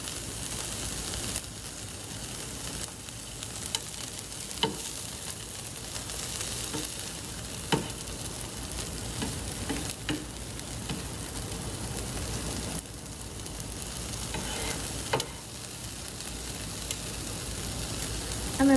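Vegetables and green onions stirred together in a hot pan, a continuous soft sizzle and hiss with occasional clicks of a utensil against the pan, steady and close.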